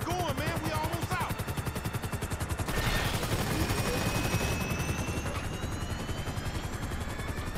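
Gunfire bursts and helicopter rotor chop from a Grand Theft Auto V shootout, a dense, continuous wash of rapid shots over a steady whirring drone, loud and close throughout with a brief voice early on.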